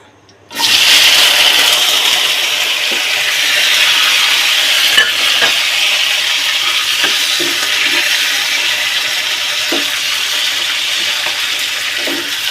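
Onions hit a hot pan and start frying with a sudden loud burst of sizzle, which settles into a steady, close hiss with occasional small pops and scraping stirs.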